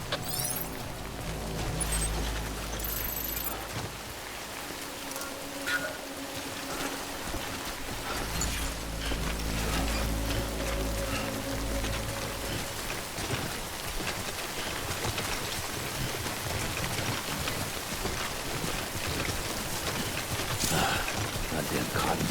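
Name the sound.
rain in Death Stranding video game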